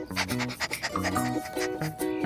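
A person imitates a dog's panting with quick, rhythmic breathy huffs, repeated in short bursts, close to the listener.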